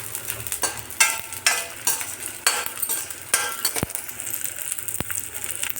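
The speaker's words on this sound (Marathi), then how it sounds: "खाली त्याला वर खाली करत राहायचं चम्मचने, कारण सगळीकडून छान असा फुगला जाईल तो." Edible gum puffing as it fries in a kadhai, stirred with a spoon: repeated close scraping strokes and metallic clinks over a soft sizzle, in an uneven rhythm.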